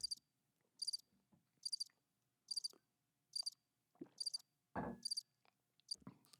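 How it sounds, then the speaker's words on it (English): Crickets chirp in short, regular pulsed bursts repeating about every 0.8 seconds, steady and fairly quiet, with a brief low rustle or thump partway through. "What if the crickets just went on and on and on?"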